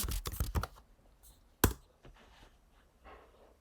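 Quick clattering keystrokes on a computer keyboard as a channel name is typed: a rapid burst at the start, then one sharp isolated tap and a few soft taps, close and quiet.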